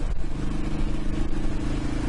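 Royal Enfield Himalayan motorcycle engine running steadily at speed, a continuous low thrumming drone with harmonic bands and wind rush, heard from the rider's position with no clear rise in revs.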